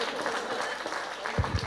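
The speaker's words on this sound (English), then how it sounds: "Please give her a big round of applause." Audience applause at an education event, a fairly soft, steady patter of clapping from a crowd, with a few heavier low thumps near the end.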